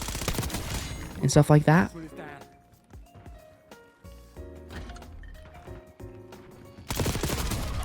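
Gunfire rattles during a video game gunfight: a dense, loud volley of shots early, scattered quieter reports through the middle, then another heavy burst near the end, with someone talking over it.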